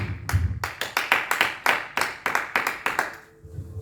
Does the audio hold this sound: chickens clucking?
no